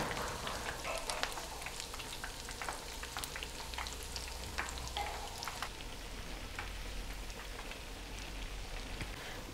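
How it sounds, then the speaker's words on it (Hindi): Gram flour dumplings fry in oil over a medium flame, a steady close crackle with sharp popping spatters throughout, giving a rain-like hiss with no voices. "फुल्कियों को हम दोनों साइड से 1-1 मिनट तक पकाएंगे और मीडियम फ्लेम पर बनाएंगे"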